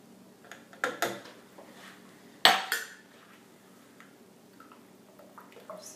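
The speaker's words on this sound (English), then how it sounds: "Hand stirring this." A utensil clinks and scrapes against a container of cold process soap batter with lemongrass essential oil in a few sharp bursts, then quieter intermittent hand stirring at emulsion stage, close by with no talking.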